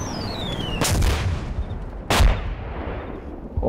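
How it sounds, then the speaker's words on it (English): An RPG rocket, not a mortar, rips overhead and bursts in a field exercise: two sharp, loud blasts about a second apart, each a broadband crack with a booming low tail over steady outdoor rumble, plus a faint whistling tone before the first. "That was no mortar, that was a fucking RPG or something, it flew over our heads."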